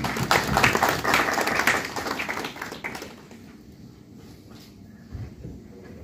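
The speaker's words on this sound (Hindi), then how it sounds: "आपकी भरपूर तालियों में" A crowd applauds loudly for a few seconds at a charity event welcoming a performer, the clapping fading out into a quiet room with a few faint stray sounds.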